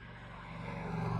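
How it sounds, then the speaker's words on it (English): An Indian motorcycle passing by on the road, its engine drone steadily rising in loudness as it approaches, with no talking. "Another bike coming."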